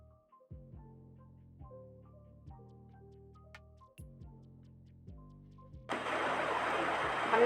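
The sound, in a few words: sewing machine stitching the blouse neckline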